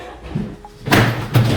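An old wooden door is forced open in a renovated house, giving two heavy close thumps with scraping, the second louder, after a quiet moment.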